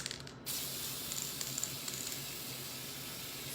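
Luster spray hisses onto icing flowers on a cupcake: a close, steady aerosol spray that starts half a second in and runs continuously, with faint clicks from the nozzle along the way.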